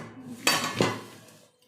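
Plates and pots clink while rice is served: two sharp, close metallic-ceramic knocks in quick succession, ringing briefly before fading into quiet.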